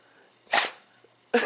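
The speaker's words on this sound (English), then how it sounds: "That's a sneeze." A Tibetan Mastiff dog gives a short, sharp, breathy sneeze close by, then starts a second burst of the same kind, with quiet room air between them and no talking.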